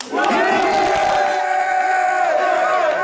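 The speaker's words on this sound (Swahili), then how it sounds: "Nikisema moja mnapiga kelele, sawa?" A live audience at a Sauti Sol guitarist's talk event erupts in loud, sustained shouting and cheering on cue, a dense crowd roar that holds for about three seconds.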